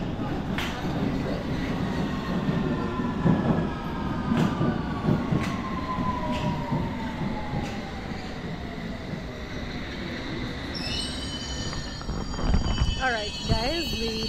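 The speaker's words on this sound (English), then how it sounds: "At the train station, we're just on our way for the train, High Street, Kensington." A London Underground train at High Street Kensington station rumbles steadily with clattering wheels and rising squeals and hums as it moves through the platform, with a voice faintly heard underneath.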